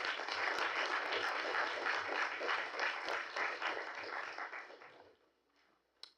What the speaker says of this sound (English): we can still give him a round of applause.